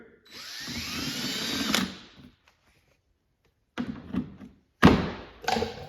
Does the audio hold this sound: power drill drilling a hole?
yes